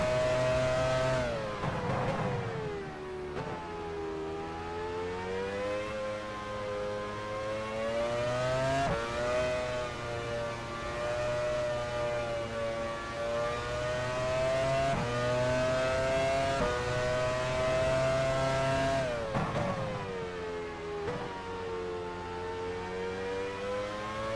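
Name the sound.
race car engines passing in F1 Challenge 99-02 video game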